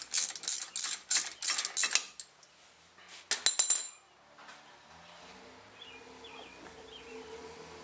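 A ratchet wrench loosens a 13mm bolt on a Mazda 3 during front wheel bearing work: two quick runs of sharp metallic clicking, close and loud, followed by quiet shop ambience.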